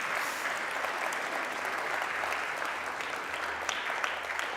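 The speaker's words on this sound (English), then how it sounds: "So let's give them all a big round of applause." Steady applause from a church congregation at a Sunday service, dense and sustained at an even level throughout, with no voices standing out.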